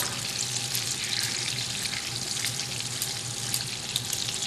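Butter melts into hot oil in a pan, a steady bright sizzle with a faint watery hiss running evenly throughout, close and fairly loud with no voices.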